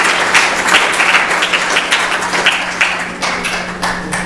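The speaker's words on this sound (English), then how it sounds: "please give them a big round of applause" Steady applause from an audience, many hands clapping continuously at an even level for a few seconds with no talking.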